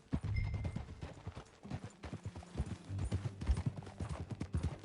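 Horse hooves clip-clop steadily in Red Dead Redemption 2 as a horse is ridden, an even rhythm of fairly close, moderately loud footfalls with a brief whinny-like tone early on.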